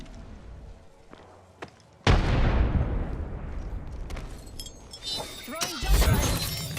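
A frag grenade detonates in a video game, giving a sudden loud blast with a long crumbling roar and debris that slowly fades. Game effects and chatter continue faintly afterward.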